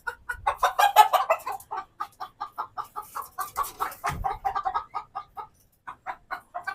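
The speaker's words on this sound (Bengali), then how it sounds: "আর এগুলো মুরগি একটু ভয় বেশি পায় আর কি।" Hens, bought small and now grown and laying eggs, cluck in a rapid, close series of short bursts. A few brief pauses break the run, and no one speaks.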